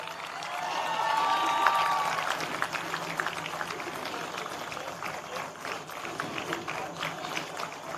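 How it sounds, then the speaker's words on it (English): An audience at a university convocation for dental graduates claps in a hall, producing a moderate, continuous patter of applause with a brief swell near the start and faint background noise throughout. "Let's clap as hard as possible."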